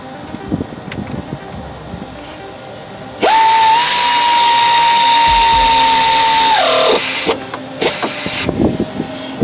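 A pneumatic impact wrench tightens a crankshaft harmonic balancer pulley bolt, running in one loud sustained whine for about four seconds amid shop noise, followed by short bursts.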